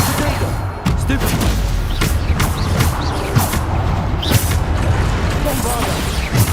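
Booming Bombarda explosion spells in Hogwarts Legacy go off repeatedly amid a dense, loud barrage of magical combat blasts, with a voice shouting spell names over the chaos.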